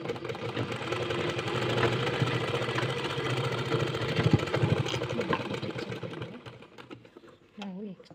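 A sewing machine runs steadily as it stitches neatly folded cloth, a close, continuous motor whir with a fast mechanical rhythm that winds down near the end, heard under a person talking.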